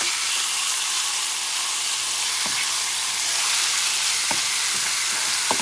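Ripe plantains fry in oil in a pan as they are flipped. A loud, constant sizzle and hiss fills the sound, with a few soft clicks from the turning utensil.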